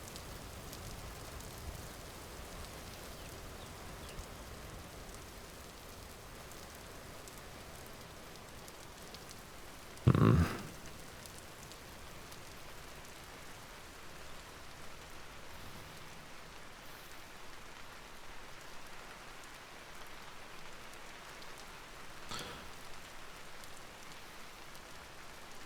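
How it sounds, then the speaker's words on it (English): Steady rain in a video game, Vintage Story, patters continuously, a soft even hiss throughout, broken once by a single brief thump partway through; no voices. "It's still raining."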